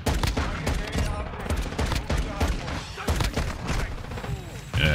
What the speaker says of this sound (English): A lot of shots.